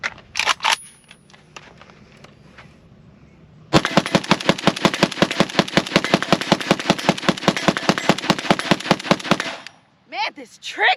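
Rapid automatic bursts from a PSA AK-105 AK-74 rifle in 5.45x39 with an ALG trigger, a long fast string of loud sharp reports lasting several seconds after a few single shots, then a brief pause.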